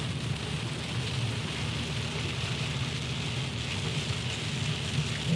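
Steady, even rainfall pours down on surfaces, a constant dense hiss with no pauses and no voices.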